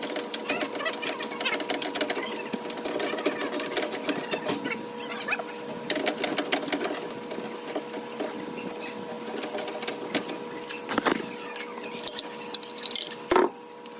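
A truck's spare tire winch is lowered with an extension rod, giving off rapid mechanical clicking and ratcheting with a faint whirring hum, followed by a few louder knocks near the end.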